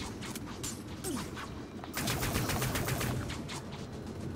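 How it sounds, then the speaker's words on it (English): Rapid automatic gunfire from a gun in Dust 514, a steady string of fast shots with mechanical clatter, moderately loud against background game noise, no talking. "This gun is just too good."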